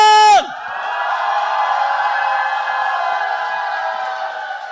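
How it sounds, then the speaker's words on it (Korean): A church congregation at a Tuesday worship service erupts in a loud shout and cheer right after a brief sung or spoken tone, the crowd roar holding steady for several seconds. "함성!"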